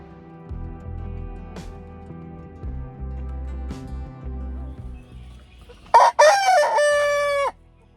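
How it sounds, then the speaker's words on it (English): A rooster named Kellogg, kept in a cage inside a coop, gives one loud, close crow near the end after several seconds of low rumbling, clucking and thuds. "really alert, crowing a bunch, making all the right sounds"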